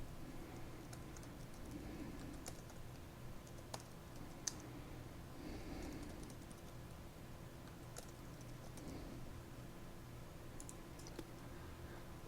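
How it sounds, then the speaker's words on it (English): Computer keyboard keys and buttons are clicked at a leisurely pace, giving sparse, faint, close taps and clicks scattered over a quiet steady room hum. Nobody speaks. "You can also click the Enter button."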